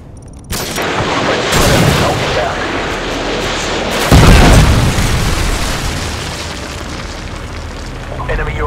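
Predator missile strikes detonate in a first-person shooter match on the Quarry map: loud, close explosions burst in, with a second heavy boom midway, over a constant roar of rumbling debris.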